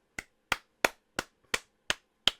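One person claps hands seven times at a steady, even pace, each clap sharp and close with silence between, during a Football Manager match commentary.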